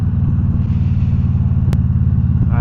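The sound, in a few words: motorcycle engine running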